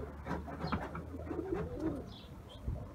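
A red Posta breed pigeon gives soft, low, throaty coos close by, with a couple of faint higher chirps and rustling in the background.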